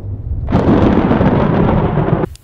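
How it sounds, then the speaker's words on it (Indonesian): Deep thunder from a big storm in the French film Saint Ange rolls in suddenly and loudly, a sustained rumbling roar lasting about two seconds before cutting off abruptly, with no voices present. "Suara petir dan angin membuat Anna sulit tidur."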